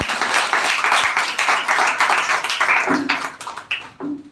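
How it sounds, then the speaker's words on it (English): A crowd applauds competition participants at a grand finale, dense clapping loud and close, filling the space before tapering off near the end. "So please give a huge round of clap for your participant"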